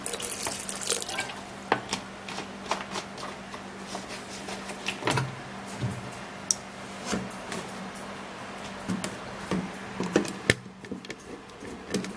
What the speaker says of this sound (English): before we blend it, we're gonna be adding a little water.